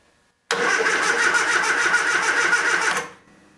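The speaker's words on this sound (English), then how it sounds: "Just crank the engine over." A 1979 Triumph Spitfire 1500 engine cranks over for about two and a half seconds, a steady rapid whirring churn from the starter that stops abruptly without firing.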